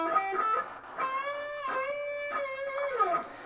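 A clean electric guitar plays a short melodic fill from a rock song, notes sliding and bending between pitches, moderately loud and alone with no talking.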